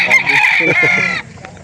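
A rooster at a chicken market in Calauan, Laguna crows loudly and close by. The single strained cock-a-doodle-doo cuts off abruptly, leaving faint background noise.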